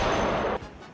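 A Mini-14 rifle fires in Project Zomboid, a loud, sharp shot with a dense rumbling tail that drops away, then a second blast cuts in right at the end.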